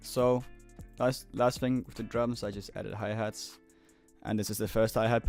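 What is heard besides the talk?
No everyday noise stands out behind the speech.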